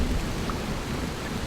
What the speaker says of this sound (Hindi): सुबह होते होते बारिश ने भयानक रूप ले लिया।